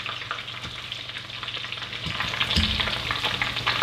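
Butterfly-cut shrimp deep frying in a pot of oil, a dense close crackling sizzle that swells louder toward the end, no talk.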